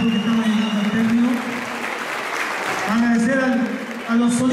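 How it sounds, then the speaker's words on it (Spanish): Loud, dense applause from a crowd at a Chilean stage show, steady for the full length, with a voice holding a sustained tone over the clapping. "Vengan acá a recibir el aplauso, porque son muchas horas de trabajo."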